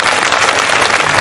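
Loud, dense applause from an audience at a Hindi poetry gathering, a continuous wash of clapping filling the whole short moment without pause.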